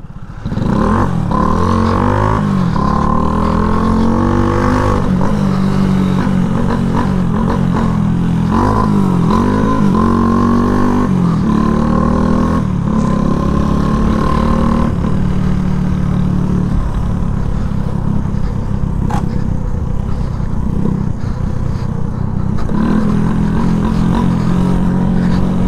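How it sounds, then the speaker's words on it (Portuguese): A Shineray motorcycle engine runs steadily and loudly up close just after an oil change, with repeated revs rising and falling early on before it settles into an even idle. "Vê se o motor não tá redondinho."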